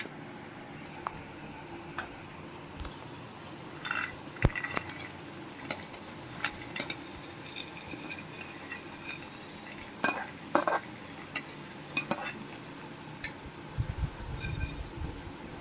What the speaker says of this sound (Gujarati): તો હવે આપણે આ બધું આપણા બોરામાં મિક્સ કરી દેશું।